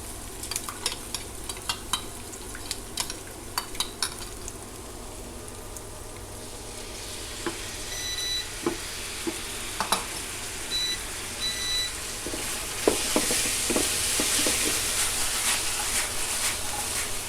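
A stir-fry tossed with sauce in a hot pan sizzles steadily, with scattered clicks and scraping stirs early on and the frying hiss growing louder and denser toward the end, no talking.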